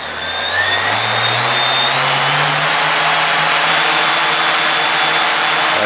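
A Skywalker FPV AX2814 brushless electric plane motor with a 40A ESC, spinning a 6x9 plastic propeller, spools up with a rising whine and then holds a loud, steady, close roar.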